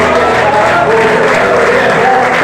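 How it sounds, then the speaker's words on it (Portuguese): A church congregation on its feet during a Sunday service applauds in a dense, steady wash of clapping that fills the whole stretch loudly, with no pauses. "Peço que a amada igreja se coloque de pé, em nome de Jesus, e aplaude a palavra de Deus."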